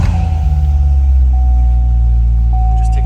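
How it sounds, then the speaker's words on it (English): A 2019 Corvette 3LT engine runs close by after a push-button start, with a deep steady rumble and a faint high whine, loud and continuous throughout. "Let's go ahead and start the car."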